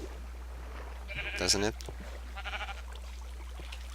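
A Minecraft sheep gives two short bleats, the first louder and the second fainter a second later, over a steady low hum, while someone speaks briefly.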